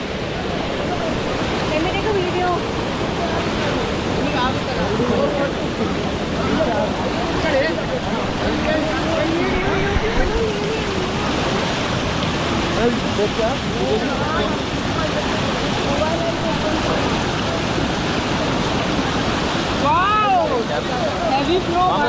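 River water rushes loudly and continuously on the Netravathi peak trek in monsoon, a dense roar like a fast stream, with voices talking faintly underneath.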